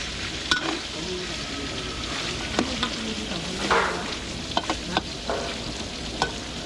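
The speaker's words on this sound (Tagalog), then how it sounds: "gigisa natin, parang ipa-fried lang natin ng konti yung ating carrots saka patatas" Carrots and potatoes sauté in a pan at a catering kitchen, giving a steady close sizzle with scattered sharp utensil scrapes and clicks throughout.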